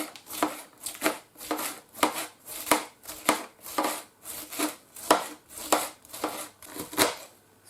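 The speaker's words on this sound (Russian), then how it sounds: "А теперь будем шинковать капусту для супа." A knife shreds cabbage for borscht in a village kitchen, with about a dozen crisp, rhythmic chopping strokes against a board, close and clear, with no talking.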